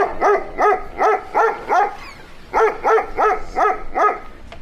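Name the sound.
person imitating a dog barking loudly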